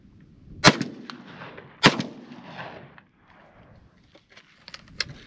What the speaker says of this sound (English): And just gonna shoot the target.